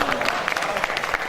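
Short burst of audience applause at a mushaira, dense clapping from a crowd heard for about a second, with a voice over it.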